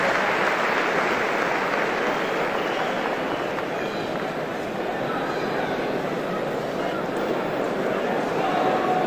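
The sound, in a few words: arena crowd applauding injured hockey player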